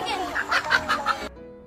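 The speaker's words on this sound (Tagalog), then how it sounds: "Daming manok eh." Several chickens cluck in a quick run of short, bright calls lasting about a second, fairly close, before they stop abruptly.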